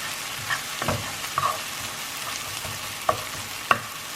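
Onions frying in a pan for homemade meatloaf, a faint steady sizzle with occasional soft stirring scrapes and a couple of small sharp pops, quiet and alone.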